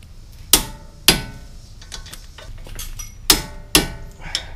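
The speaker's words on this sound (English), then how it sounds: "let's torque these strut tower or strut spindles, pinch bolts, whatever you want to call them" Metal clicks and clanks ring out as a torque wrench tightens the strut pinch bolts on a 2006-2011 Honda Civic to 85 foot-pounds: four sharp, close hits in two pairs, with quieter tool rattles between them.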